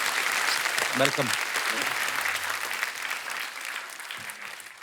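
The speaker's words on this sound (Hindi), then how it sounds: "अरविंदर पाजी के लिए जोरदार तालियां हो जाए" Studio audience applauding for a guest, Arvinder Paaji, on a comedy talk show; a steady dense clapping wash throughout with a voice briefly speaking over it.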